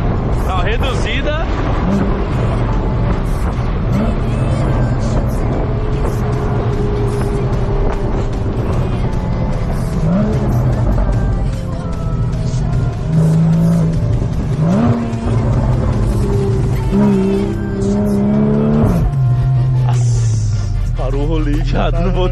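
A blue Porsche drives with its engine loud and close, revving repeatedly in rising, falling pulls over a constant road and cabin rumble. People talk inside the car throughout.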